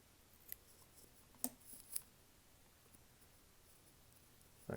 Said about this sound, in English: Cut the excess here.